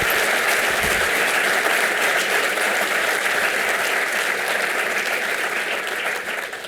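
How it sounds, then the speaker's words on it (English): Sustained applause from a large audience at a panel discussion, steady and full throughout, tapering slightly toward the end. "Let's give our panelists one more round of applause."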